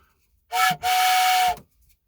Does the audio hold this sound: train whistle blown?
yes